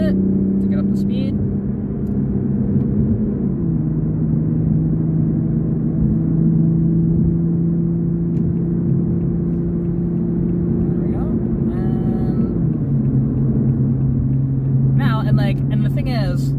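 A 2021 Toyota Supra GR accelerating while driving, its engine drone steadily rising in pitch, then dropping with each gear change, heard from inside the cabin with brief clicks.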